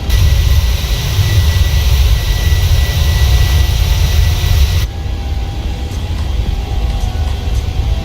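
Boeing 737-800 BBJ2 jet engines in a flight simulator, climbing just after takeoff: a loud, steady roar and hiss that drops noticeably in level partway through, then continues more softly.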